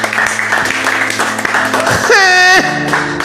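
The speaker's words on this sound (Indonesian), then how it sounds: "Tepuk tangan." A brief burst of clapping from the audience at an Islamic study gathering, mixed with voices and a short sung or drawn-out vocal tone.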